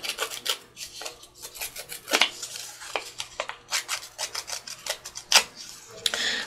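Paper edges in an art journal being roughened and scraped, giving a series of close, dry rasping strokes in an irregular rhythm.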